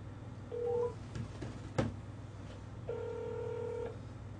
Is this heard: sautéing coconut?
no